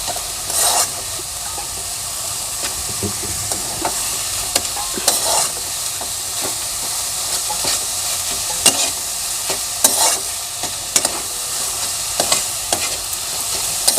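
Jaggery and coconut filling stirred over low heat in a pan for palm pitha, a steady hissing sizzle with repeated scraping strokes and light knocks of the spatula, close and unbroken with no talk.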